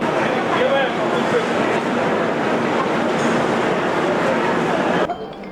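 A train rumbles steadily nearby at a railway station with a dense mechanical roar and wheel clatter, cutting off abruptly near the end.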